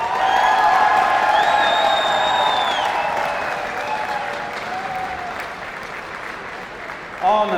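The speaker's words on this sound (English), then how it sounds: "Now you applaud." Audience applause at a 10m air pistol men's shooting final in New Delhi: steady, loud clapping from a crowd that slowly tapers, with an announcer speaking over it.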